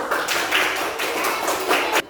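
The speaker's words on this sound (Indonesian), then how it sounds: "kita bagi tepuk tangan untuk yang mendapatkan nilai 100" A classroom of students clapping in unison for classmates who scored 100, a loud close burst of rapid rhythmic hand claps that stops sharply at the end.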